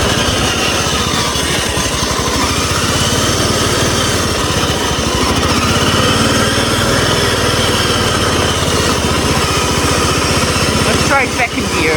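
A racing lawn mower engine built for speed runs steadily in first gear, a loud, continuous, close buzzing drone that barely changes across the whole stretch.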